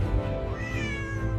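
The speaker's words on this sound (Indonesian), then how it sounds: "Jadi setiap nada ngeong punya arti spesifik." A domestic cat gives a single clear meow, a short rising-then-falling cry heard close up against a steady low background hum.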